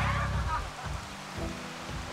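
Heavy rain pouring down steadily on a private cottage near Khiri Wong, Nakhon Si Thammarat, Thailand, a dense wash of close rain noise with a faint voice underneath.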